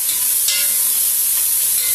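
Onions and carrots sizzle in a pot for turkey soup as they are stirred, a steady loud frying hiss with a soft scrape of the spoon partway through and no talking.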